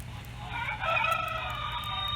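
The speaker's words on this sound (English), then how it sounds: "So we have screaming chickens" A model railroad farm scene animation at a county fair display plays recorded chicken squawks and crowing: a loud rising screech over a steady low hum of the exhibit hall.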